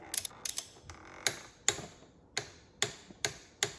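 BMW E46 oil filter housing cap being turned by hand, giving a series of close, crisp plastic clicks and ratcheting ticks in an irregular rhythm, alone with no talk.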